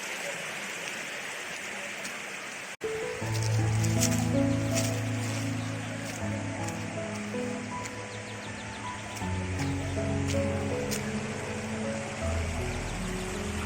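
Rushing water at the top of Madatharuvi waterfall, a steady broadband roar of flowing water close by that persists throughout, with a brief dropout early on and no talk.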